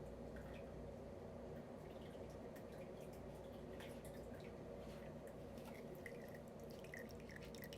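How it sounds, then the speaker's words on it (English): Water dripping, faint scattered drops falling over a low, steady background wash that continues throughout. "And you hear the drip drop."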